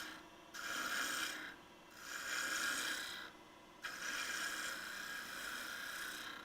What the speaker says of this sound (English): Now I'm using just a small spindle gouge.